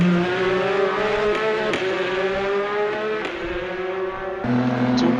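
Porsche race cars in a racing game at Kyalami, engines droning steadily at high revs with shifting pitch and brief gear-change breaks, close and continuous without talking.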